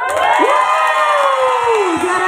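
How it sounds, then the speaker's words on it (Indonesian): An audience at a prize-giving for an arts and culture festival contest cheers and shouts, with children's voices whooping over a loud, continuous crowd roar. "Langsung ini belum nama saja langsung tepuk tangan"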